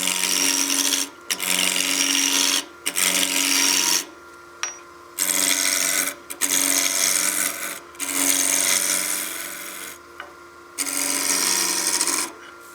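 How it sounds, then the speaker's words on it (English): Wooden blank turning on a lathe while a gouge shapes it into a wine glass, a steady loud rasping scrape broken by several short pauses as the tool lifts off, with a low motor hum beneath. "Now we can bump up our lathe speed now that we're true."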